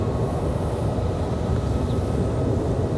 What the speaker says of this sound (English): Now we turn to American from DFW. This one, our last arrival of the night.